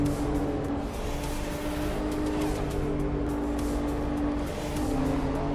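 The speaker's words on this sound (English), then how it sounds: "Upshit, were you the one driving this car?" A video game car hums along in a steady, continuous engine drone with road noise, even and unbroken throughout, with no talk.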